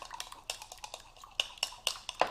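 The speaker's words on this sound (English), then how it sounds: "So I'm going to put the half a teaspoon of gelatin in there. Stir that round" Half a teaspoon of gelatin is stirred round in a bowl while making shortbread and teacakes, producing quiet, rhythmic clinks and scrapes of a spoon against the bowl, with a few sharper taps near the end.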